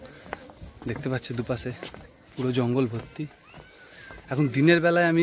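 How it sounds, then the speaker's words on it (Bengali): Daytime crickets in a jungle on an island near Bakkhali keep up a thin, steady high chirring in the background while someone talks over them. "ঝিঝি পোকার আওয়াজ শুনতে পাচ্ছি"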